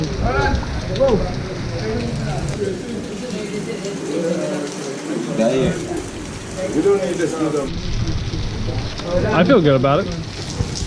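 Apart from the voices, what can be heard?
rain falling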